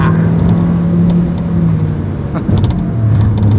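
A car accelerates hard along a road, its engine a loud, steady, close roar with rising whine and rumble that continues throughout without a break.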